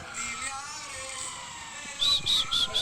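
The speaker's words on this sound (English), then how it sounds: "Oh yeah, the sirens are going off over." Faint wailing sirens sound in the distance, with a few short rhythmic chirps near the end, under low background noise.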